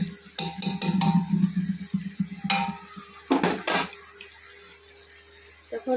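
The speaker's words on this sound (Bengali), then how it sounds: "তো আদাটা ভাজা হয়ে গেছে। এখন ডালটা ঢেলে দিতে হবে।" Lentils tipped into hot oil with fried ginger in a home vegetarian kitchen, giving sizzling bursts with clinks of a pot and stirring, close and moderately loud, no talk.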